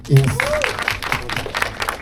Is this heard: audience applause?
yes